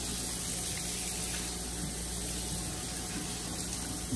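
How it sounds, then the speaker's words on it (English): Strawberries rinsed under a cold running kitchen tap, giving a steady, continuous hiss of flowing water splashing into a sink, fairly close and constant with no talking. "So I'm going to take and rinse a few of the strawberries under cold running water."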